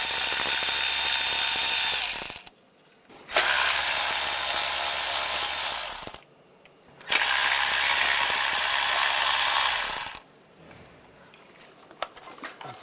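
Ratchet with a 10mm socket removing bolts on a 1996–2002 Toyota 4Runner during an intake gasket job: three loud, close bursts of fast clicking, each lasting a few seconds and separated by short pauses.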